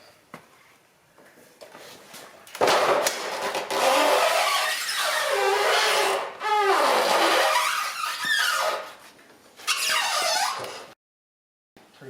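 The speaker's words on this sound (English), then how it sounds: "You heard the tire rubbing on this rail over here" A motorcycle tire rubbing and squeaking against the rail of a low-profile motorcycle dolly, loud drawn-out rubbing squeals in several bursts with short pauses, ending in silence.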